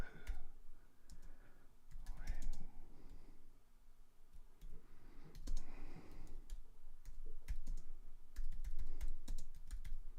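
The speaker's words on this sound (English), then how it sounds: "I haven't spoken yet because I'm typing" Keys clatter on a computer keyboard in quick, irregular bursts of close clicking, with brief pauses between runs of typing and no voice present.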